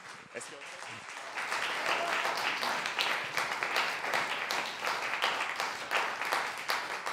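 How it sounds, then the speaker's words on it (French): An audience at a book event applauds author Vincent Fortier, dense and continuous clapping swelling after a moment and holding steady at a full, even level to the end. "On peut applaudir Vincent Fortier."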